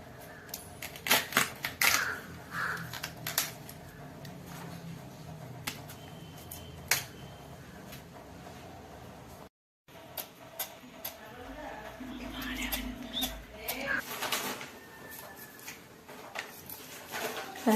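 A knife finely chops a homegrown banana flower for thoran, making sharp, irregular taps on a board. The taps stop briefly partway through.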